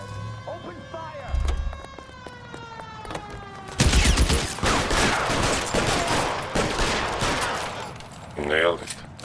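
Rapid bursts of gunfire from several weapons crackle through a road shootout in L.A. Noire, loud and dense after a brief lead-in, with a siren and a voice heard over the action.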